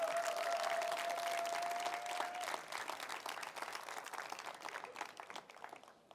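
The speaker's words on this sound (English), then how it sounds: "You can clap." Keynote audience at a leadership convention breaks into applause, a dense, even wash of many hands clapping that stays strong and then slowly tapers off.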